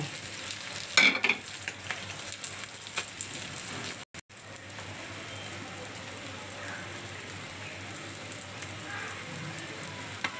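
Eggs frying in hot oil in a pan crackle in a soft, steady sizzle, quiet and close, with a brief louder clatter near the start and a short dropout midway.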